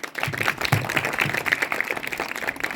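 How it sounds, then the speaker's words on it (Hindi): Children applaud to welcome a guest speaker at a school career guidance and counselling program, a steady patter of claps at moderate level lasting throughout without talk. "बच्चे जोरदार तालियों से सर का स्वागत करेंगे"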